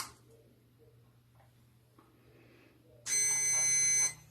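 A kitchen timer being set gives a few faint clicks, then breaks into a loud, steady electronic beeping alarm for about a second before stopping, close by in a quiet room.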